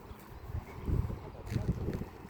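Steady wind rushes and buffets outdoors on a summit, a low rumbling gust that swells and fades without any talking.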